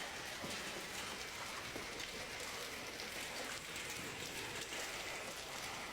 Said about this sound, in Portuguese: a chuva de granizo caindo lá na penha